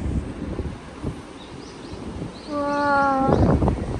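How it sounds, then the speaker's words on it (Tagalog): Outdoor wind rumbles and buffets the microphone, with the gusts growing stronger toward the end. A brief tonal horn-like sound rises near the end, and no one talks. "Mahangin nga lang, malamig."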